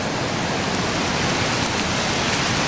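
Floodwater of Cinderford Brook rushes steadily past, a dense, unbroken roar of flowing water that stays loud and close throughout with no talk over it.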